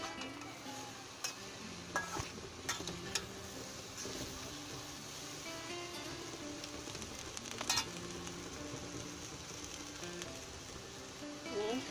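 Cabbage and egg frying slowly in a pan, a steady low sizzle with occasional clinks and scrapes of stirring throughout, fairly quiet and close.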